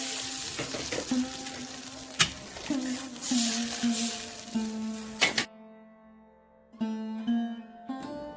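A spoon stirs rui fish curry gravy in a pan, giving scraping and clinking strokes over a soft sizzle, close up, before a brief quiet gap and more stirring.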